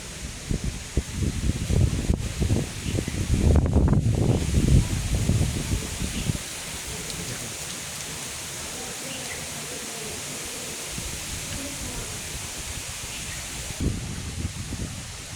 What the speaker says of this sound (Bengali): বাতাস বেশ জোরে সোরেই বইছে